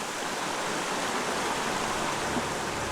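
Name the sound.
flowing stream water sound for meditation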